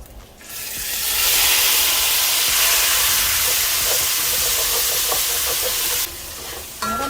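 Roasted tomatoes hitting hot oil in a pot, a loud close sizzle that swells in within the first second and hisses steadily for several seconds before dropping off near the end, with a few faint clinks beneath.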